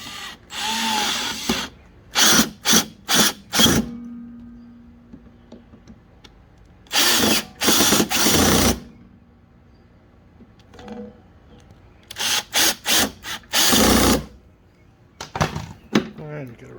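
A power drill drives screws into a Toro 22-inch Recycle mower in three rapid bursts of high whirring, each a series of short trigger pulls, with quiet pauses and a little low background noise between them.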